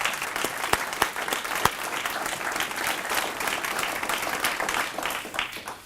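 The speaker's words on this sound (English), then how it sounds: "How about a round of applause for these roasters?" An audience at a Citizen of the Year event breaks into sustained applause for the roasters, dense steady clapping from many hands with a few sharp close claps standing out, no voices over it.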